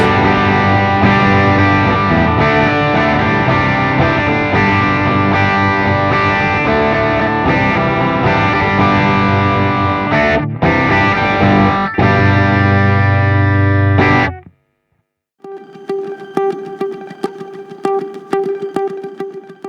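Fender Acoustasonic Jazzmaster electric guitar on a lightly driven Fender Electric Fat semi-clean voice strums sustained chords, then breaks off briefly before thinner, choppier chords resume.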